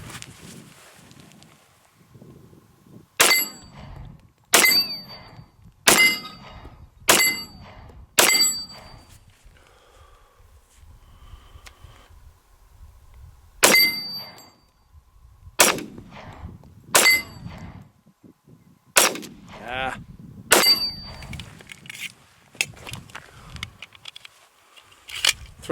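Nighthawk Custom 1911 pistol fired at a steel plate rack: two strings of about five sharp shots each, every bang followed by a ringing metallic clang, then a few more scattered shots and hits separated by quiet gaps.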